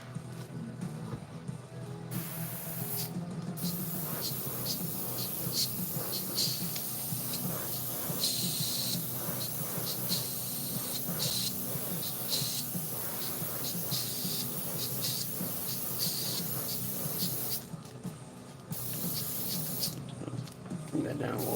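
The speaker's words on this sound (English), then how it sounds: "airbrush and wash." An airbrush sprays paint onto a model figure with a soft, steady hiss. It runs in long bursts broken by a couple of short pauses, fairly quiet and close, with faint talk in places.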